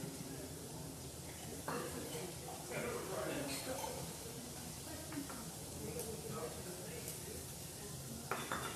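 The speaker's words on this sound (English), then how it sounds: "Now you saute nicely." Pans and utensils clatter while kalamata and green olives sauté in an Italian dinner cooking class. Scattered clinks and scrapes sound over a steady background murmur, with people talking nearby.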